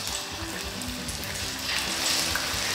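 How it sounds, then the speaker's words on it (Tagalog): Saba bananas fry in hot oil with a continuous dense sizzle that grows slightly louder toward the end, with no voices. "iprito na natin itong saging na saba"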